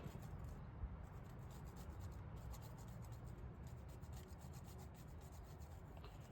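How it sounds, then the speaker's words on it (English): Whole nutmeg is grated by hand over a pestle and mortar, a quiet continuous rasping scrape with a faint rhythmic back-and-forth, close by and without talk. "we can grate a little bit of nutmeg into this pestle and mortar"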